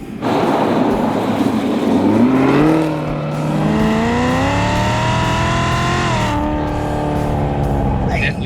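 The engine of an orange Hennessey 850-package Camaro ZL1 revs hard and close, climbing in pitch through a long, loud pull before easing and holding at a high idle, with voices faintly underneath.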